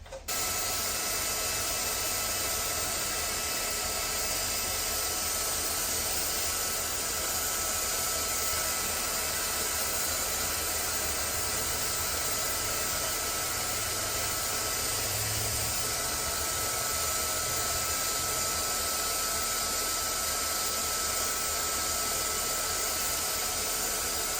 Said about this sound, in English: If you have access to a dryer near you, definitely dry it before you get started.